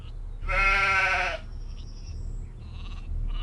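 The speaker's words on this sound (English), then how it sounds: "Hello, sheep." A sheep in the video game Gothic 2 gives a single loud, wavering bleat out in a pasture, followed by quieter game ambience.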